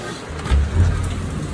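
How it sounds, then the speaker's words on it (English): Rain falls steadily in Jamaica, a dense close hiss of drops with a low rumble beneath it and no voices. "I'm gonna film the rain for them"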